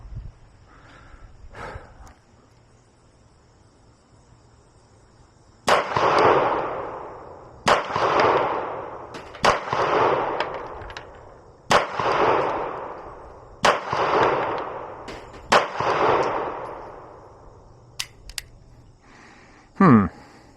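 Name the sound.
Beretta 92FS compact pistol gunshots at target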